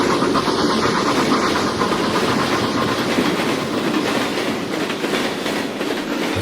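Black River and Western's Consolidation No. 60 steam locomotive hauling an excursion train on the Montauk Line on Long Island passes close by, with a loud, steady rolling rumble and rhythmic wheel clatter throughout.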